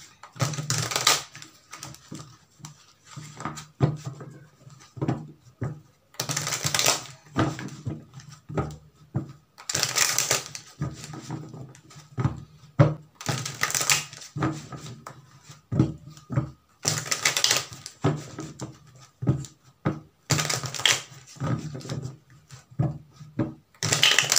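Tarot cards are shuffled and drawn at close range for a Gemini reading: repeated papery riffles and soft slaps in bursts, with quieter taps and rubs of cards on a surface between them.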